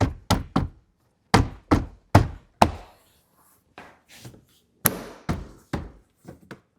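Repeated firm knocks as a Tesla Model 3/Y 10.88-inch driver display panel is tapped back into place, sharp thuds in quick bursts with short pauses between groups, close and clear with no talk.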